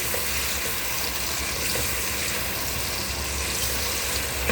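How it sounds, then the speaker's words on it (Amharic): Cooking oil heats in a pan while rice is prepared, producing a dense, even sizzling hiss that holds steady throughout without any voices. "ዘይታችንን እናቁላላለን።"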